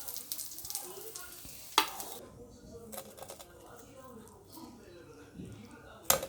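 Golden-brown crispy fried fish balls are lifted out of the frying pan with soft sizzling, crackly rustles and sharp clinks of a utensil, faint and close with speech heard faintly.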